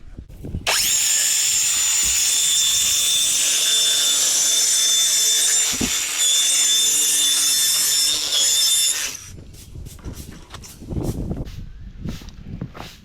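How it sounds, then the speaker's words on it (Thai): A loud circular saw whines steadily through a cut along a large board's rubber edge strip for about eight seconds, then stops, leaving quieter handling noises and light knocks. "ให้เราสวมตัวเลื่อยเข้าไปแล้วก็ไล่ตัดตามขอบไปเลยนะครับ"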